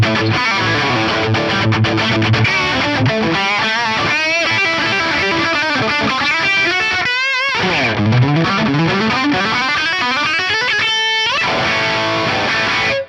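An electric guitar through a Fractal FM9 running the Cygnus X-2 amp model with shimmer drive, playing shimmering, effect-laden lines with sweeping pitch glides, loud and continuous with brief gaps.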